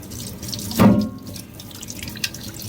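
A kitchen tap runs hard over a Case Kinfolks Jig Bone pocket knife, a loud close gush that flares briefly, then settles into softer trickling and drips, with no voices.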